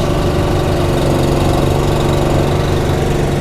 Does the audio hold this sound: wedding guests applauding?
no